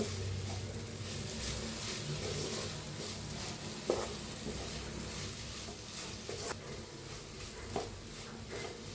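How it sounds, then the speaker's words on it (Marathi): Methi besan vegetable with peanut powder being stirred in a pan, a soft continuous scraping and light sizzle with a few sharper utensil knocks against the pan, steady and close. "शेंगदाण्याचा थोडासा कूट टाकूया 1 चमचभर आणि भाजी मिक्स करून घेऊया"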